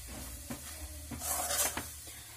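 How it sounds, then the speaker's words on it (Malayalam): Clam meat with meat masala and pepper is stirred in a pan, giving soft scraping strokes and a light sizzle, with a brief brighter hiss midway through the short stretch; no talking. "നന്നായി ഇളക്കി യോജിപ്പിക്കുക"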